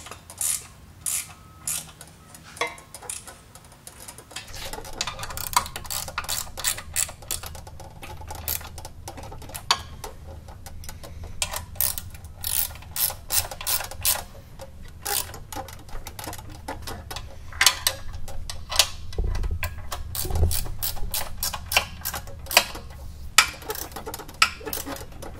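Bolts on a Mud Buddy boat motor being tightened in a crisscross pattern with a ratchet wrench, a long run of quick clicking bursts close by, steady and mechanical with no talking.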